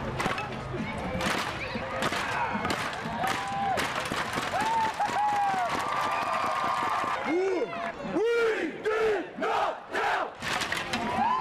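Rows of young men marching ten abreast in a long parade shout a loud collective cheer, with rhythmic bursts of voices over a steady crowd noise and some talk mixed in.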